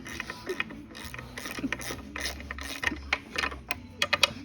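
A ratchet spins a bolt off the lower unit of a Yamaha 60 horsepower outboard, giving rapid clicking pawl ticks in close bursts with metallic rattles and brief pauses, no voices.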